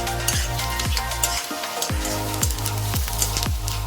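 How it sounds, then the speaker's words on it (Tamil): Sliced onion, green chilies and a handful of cashews sauté in hot oil in a pan, giving a steady sizzle with repeated scraping strokes of a spatula stirring at a regular rhythm, close and without talk. "இதெல்லாம் கொஞ்சம் நல்லா வதங்கணும்."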